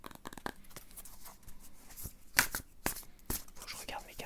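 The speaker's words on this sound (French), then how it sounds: "Faut que je regarde mes cartes quand je les mélange." Tarot cards are shuffled by hand at close range in quick papery bursts and riffles. A soft voice murmurs underneath.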